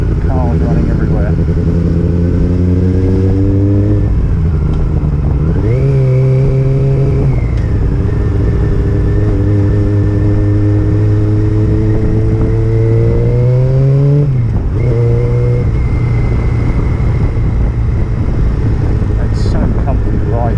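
A Honda CB400 Super Four motorcycle being ridden, its engine droning steadily with rising and falling revs through gear changes, loud and close with wind noise, someone talking over it.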